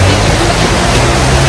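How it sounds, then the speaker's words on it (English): Torrential downpour in Panama, a loud, dense, steady roar of pouring rain filling the air, heard from under shelter with no talk. "pouring rain."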